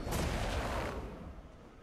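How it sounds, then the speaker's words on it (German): An explosion at the end of a swirling vortex attack in the online role-playing game Black Desert: a sharp booming burst that fades into a rumbling tail within about two seconds, with no talking. "Ein Wirbel vor uns, der auch mit so einer Explosion endet."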